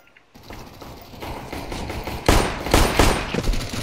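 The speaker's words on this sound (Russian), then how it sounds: "тут, тут пулемет. Тут пулемет." Loud machine gun fire in CS:GO, a dense rolling burst that swells and intensifies partway through, with rattling mechanical clatter mixed in, sounding near and continuous.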